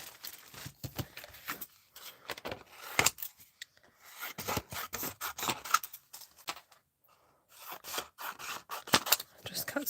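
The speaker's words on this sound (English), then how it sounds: "Just cut some more card" Scissors cutting card while preparing a Stampin' Up card class: repeated close snips and rasping slices come in bursts with short quiet gaps, and some quiet handling noise is mixed in.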